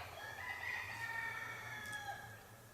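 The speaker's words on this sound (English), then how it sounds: "with my token roosters going at it in the background" Roosters crow in the distance, faint drawn-out calls overlapping one after another against a quiet outdoor background.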